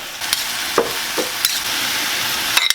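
Vegetables stir-fry briefly in a wok for Chinese-style gan jjajang, giving a steady sizzle broken by a few quick spatula scrapes and clinks.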